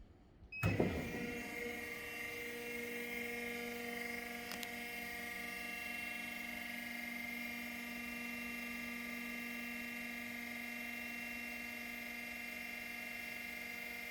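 Motorized mixer on a gas-fired wok powering on with a brief clunk, then settling into a steady, even electric motor whine with a strong tonal hum that continues unbroken, no talking.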